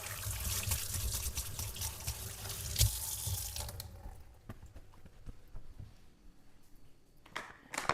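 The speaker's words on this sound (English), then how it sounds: "Let me just quickly wash my hands." Hands being washed under a running kitchen tap, a loud steady gush of water for about four seconds, then quieter dripping and splashing with a brief final burst.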